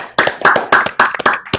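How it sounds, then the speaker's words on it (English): A few people clapping in a sparse round of applause during a live stream, about a dozen sharp, close claps in an uneven rhythm over under two seconds. "applause for Moto Michelle."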